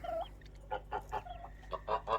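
Young turkeys on a farm giving a run of short clucking calls, several in an uneven rhythm, close by with no talk.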